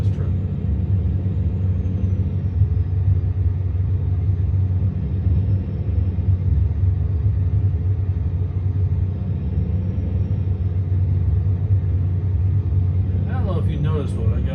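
A truck engine rumbles steadily and loud in American Truck Simulator, a constant low drone throughout, with a brief higher rattle near the end.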